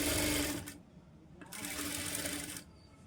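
A sewing machine stitches piping onto a blouse in two rapid mechanical bursts, separated by a short pause, fairly close and with no talking.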